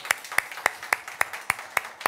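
A church congregation claps together in thanks and praise at a seventh-anniversary worship service, giving eight sharp, evenly spaced clap bursts that sound close and clear with no talking.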